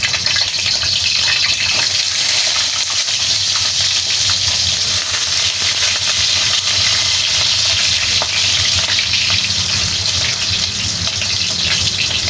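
Potatoes sizzle and crackle continuously in hot oil, a loud, dense frying hiss that holds steady throughout with no talking.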